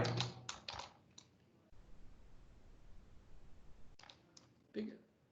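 Quiet clicking keystrokes on a computer keyboard come in short clustered bursts at the start and end, with a pause of faint hiss between, while someone types lines of code.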